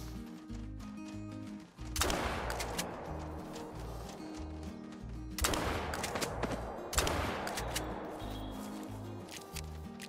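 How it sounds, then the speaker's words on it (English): Shotgun blasts from a Couso Model 1897 in theHunter: Call of the Wild while hunting pheasants: three loud, sharp reports at roughly two, five and a half, and seven seconds, each with a short decaying tail over a steady background bed of game music. "Let's go try and shoot some pheasant out of the sky."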